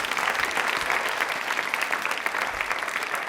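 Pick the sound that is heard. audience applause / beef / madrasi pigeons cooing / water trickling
audience applause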